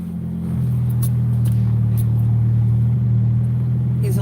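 A car engine hums steadily from inside the cabin while driving, a smooth low drone that rises a little in the first half second and then holds even, with a few faint clicks and rustles on top.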